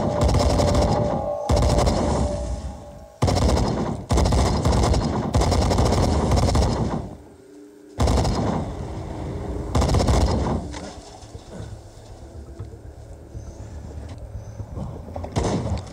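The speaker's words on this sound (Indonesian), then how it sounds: "Please, my shotgun, help me." Gunfire from a shotgun in the zombie survival game Into The Dead 2, with loud repeated blasts in quick bursts through the first half, then a dense ongoing clatter of game action.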